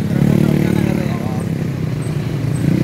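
A motorcycle ride on the way to a durian orchard, a steady loud engine drone with road rumble throughout, a voice talking over it.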